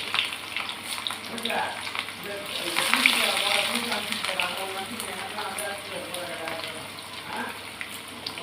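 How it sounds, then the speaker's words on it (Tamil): Mustard seeds, onion and curry leaves frying in hot oil, a soft crackling sizzle running under a woman's speech, with a brief louder surge partway through. "எண்ணெய் வேறு சூடாயிடுச்சு. கடுகு, வெங்காயம், கருவேப்பிலை,"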